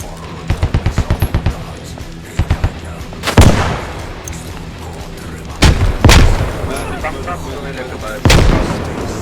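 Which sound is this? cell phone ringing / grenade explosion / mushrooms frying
grenade explosion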